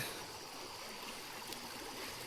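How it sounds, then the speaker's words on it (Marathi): A small stream flows with a soft, steady rushing and trickling, heard close by during a walking crossing on a Narmada pilgrimage route, with no talking. "ओढा आहे काय ते आपल्याला आता पायीच पार करायचं आहे"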